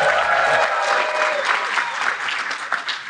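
A live audience of roughly 200 people at a community engagement event applauds loudly and steadily, dense clapping filling the room close up for the whole stretch without letting up.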